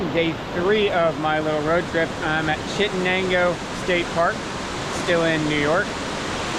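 A waterfall at Chittenango State Park in New York gives a steady, broad rushing roar beneath someone talking throughout.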